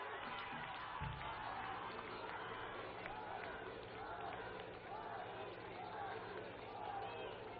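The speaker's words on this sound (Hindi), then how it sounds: "हम सब बहनें जोरदार तालियों के साथ माननीय प्रधानमंत्री जी का अभिनंदन करें।" A large audience of women at a BJP event welcoming Prime Minister Modi claps loudly and continuously, a dense crowd roar of hands mixed with chatter and scattered cheering, sustained at full strength throughout.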